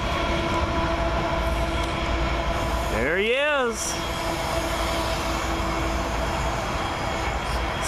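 A CN tanker train with a rear DPU rumbles past in a loud, continuous roll of wheels and wagons, with a short rising-and-falling horn-like tone midway and someone speaking briefly.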